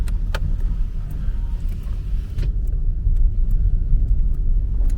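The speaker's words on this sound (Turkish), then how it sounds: "Evet bayağı sarsıyor araba. Çünkü çukurlar çok." A car shakes and rumbles along a potholed road with its windows open on both sides, giving a loud, continuous low rumble broken by a few sharp rattles and knocks.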